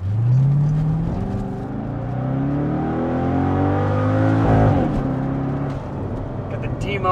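A C6 Corvette V8 revs hard through universal valved mufflers, a loud deep engine note climbing in pitch over several seconds, then dropping and settling back to a rumbling idle.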